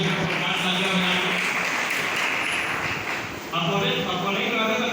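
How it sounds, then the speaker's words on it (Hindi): Students at an engineering college's farewell event clap steadily throughout, with a speaker's voice over a sound system running over the applause. "तो दूसरे के लिए तालियां बजाएं।"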